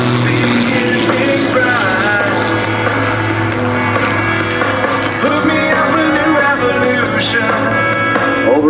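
Aerobatic aircraft engines of the Iron Eagles team roar steadily at an airshow, loud and sustained with a shifting, droning pitch as the planes pass, and a commentator's voice runs over the noise.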